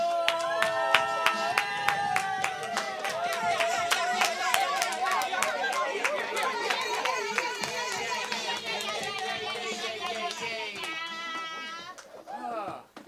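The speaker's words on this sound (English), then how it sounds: "Please give a warm round of applause for People People!" Audience clapping for the comedy team People People at a Friday night comedy show, sharp claps running steadily under bright, loud walk-on music for about twelve seconds before stopping abruptly.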